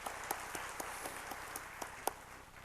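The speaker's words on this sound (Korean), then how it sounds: "우리 감사 영광의 박수 달려드립시다" A church congregation at a Sunday worship service claps in loose, scattered applause, individual hand claps standing out against a soft room wash at moderate distance.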